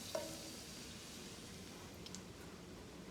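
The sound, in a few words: grated garlic sizzling in hot oil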